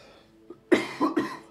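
A person with a lingering cough that has gotten worse, a short faint catch followed by two or three harsh, close coughs in quick succession.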